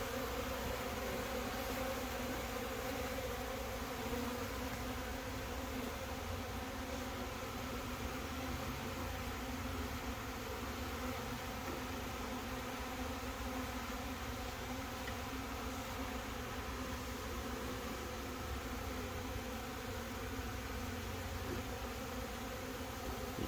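Honey bees at an apiary feeding on sugar syrup buzz steadily and continuously, a dense, close droning hum with no pauses and no voices.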